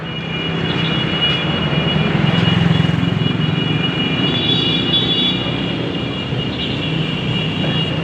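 A motorcycle engine drones loudly and steadily while riding, a continuous broad roar with wind rush lasting the whole stretch, swelling slightly midway.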